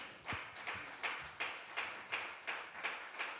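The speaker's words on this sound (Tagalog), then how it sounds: "Let's give a clap offering to the Lord." A church congregation gives a clap offering, with about nine sharp, evenly spaced claps in unison, a steady rhythmic pattern in a reverberant room.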